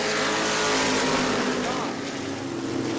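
Race cars roar around a short track at New Smyrna during a family fun night: a loud, continuous engine drone with shifting pitch fills the whole stretch, with an announcer's voice over it.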